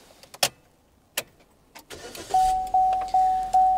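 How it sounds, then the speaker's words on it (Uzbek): A 2022 Chevrolet Spark, held near, with a few clicks and key or switch taps. Then the starter cranks in a series of short repeated whirs as the engine turns over, rhythmic and fairly loud, with no voices. "Mashinani zavod bo'lishini eshitinglar."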